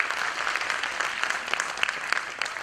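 An audience claps steadily and loudly at a live stage performance, a dense continuous patter of many hands with no voices over it.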